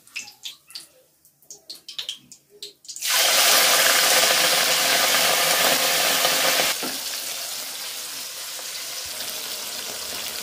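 Small fish fry in a pan for a zucchini curry. After a few soft knocks, a loud, dense, close sizzle bursts in and holds, easing slightly partway through, with no talking.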